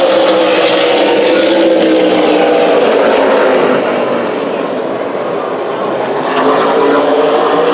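Race cars roaring around Kern County Raceway during a Winter Showdown qualifying race, a loud continuous engine drone from the pack that swells and eases slightly as the field circles the oval.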